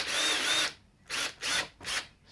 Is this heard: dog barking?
no